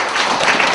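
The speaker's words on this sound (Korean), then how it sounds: "발표해 주신 대성 박사님께 큰 박수 부탁드립니다" Audience applause for a presenter at a cloud computing talk, a dense continuous wash of many hands clapping at once, loud and even throughout the short burst.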